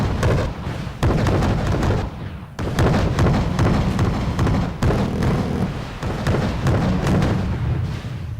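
A Soviet missile volley in the real-time strategy video game Wargame: Red Dragon, dense rolling launches and explosions in rapid succession, loud and continuous with sharp cracks and booms throughout.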